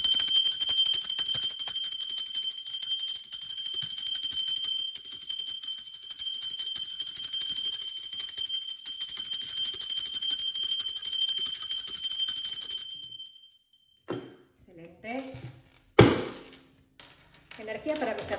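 A small bell rings with a steady bright metallic tone for about thirteen seconds. It then stops abruptly, and a few brief clinks and knocks follow.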